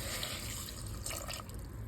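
Water pours into a pressure cooker holding onion, garlic cloves, tomato, pepper and cumin for moringa soup, a steady quiet splashing stream running alone for about two seconds.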